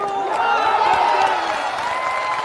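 A large crowd at a Jan Suraaj political rally in Bihar claps and cheers loudly and continuously, a dense wash of applause with voices mixed in.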